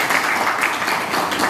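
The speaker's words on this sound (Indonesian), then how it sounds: "Tepuk tangan semuanya." Audience applause at a teachers' motivational talk, a brief wash of steady clapping from a crowd, fairly loud and continuous.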